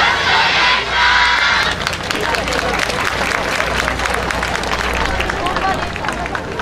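A festival crowd claps and cheers before a Kyoto-style yosakoi team dance at the Onokoi 2014 event, with dense applause loudest at the start, then easing into steady, busy clapping and crowd noise.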